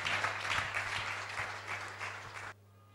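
A church congregation at a French-language Bible reading breaks into warm, steady applause that fills the room for about two and a half seconds, then cuts off abruptly into near silence.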